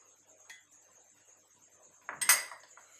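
A spoon clinks against a mixing bowl as water is added a spoonful at a time to crumbly pastry dough for mini fruit tarts: one light tap, then a close, brighter cluster of clinks and scrapes.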